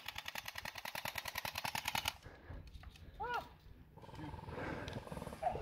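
Rapid burst of RPK machine gun fire in a Russian-front war video game, loud and rhythmic for about two seconds, then breaks off into other game sounds and noise.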